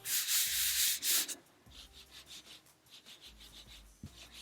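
Sheets of T-shirt transfer paper rub and scrape together close up: a loud burst of rustling, then softer repeated strokes in a quieter rhythm.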